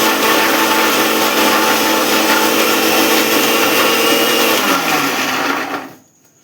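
An electric blender grinds a cream mixture for malai mushroom in its jar, a loud steady whirring roar that runs evenly, then winds down and cuts off near the end.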